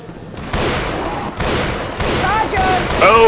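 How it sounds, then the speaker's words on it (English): Bursts of gunfire from the zombie co-op shooter game Left 4 Dead 2 come in several loud rapid volleys, each a clustered crackle of shots, with voices and chirping tones mixed in near the end. "Can we stop shooting each other?"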